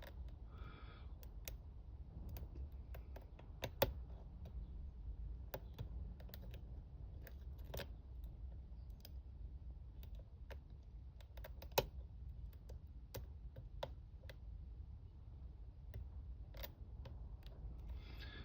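Picking the pins of a Yale closed shackle padlock, with faint scattered metallic ticks and clicks spaced irregularly over a low steady hum.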